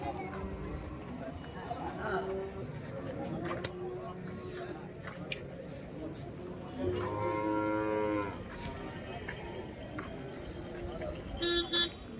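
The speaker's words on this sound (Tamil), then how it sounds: "எல்லாம் ஜெர்சி மாடுங்க தான் கை கறவை தான்" Jersey cattle moo at a busy cow market in Vaniyambadi, several drawn-out calls rising over steady crowd chatter, with a vehicle horn tooting briefly near the end.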